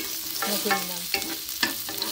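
Pepper leaves sauté in olive oil for Filipino tinola, with a close hiss and a few sharp spatula scrapes and clicks, and a brief spoken phrase at the start.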